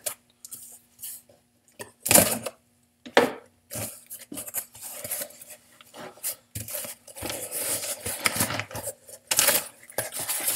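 A dull steak knife sawing and scraping through a package, giving rough rasping strokes and plastic scrapes in uneven bursts with short pauses, close and moderately loud.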